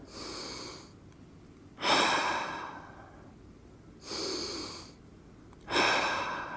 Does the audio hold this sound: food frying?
no